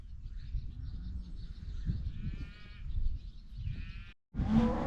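Several farm animals call out in drawn-out bleating moos, close by and overlapping, with a brief silence before a final louder call.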